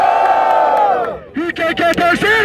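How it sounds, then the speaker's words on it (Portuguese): A crowd at a Brazilian freestyle rap battle cheers and shouts for a rhyme. A sustained shouted call is followed by several loud, choppy bursts of roaring voices. "Barulho pras rimas do Eli!"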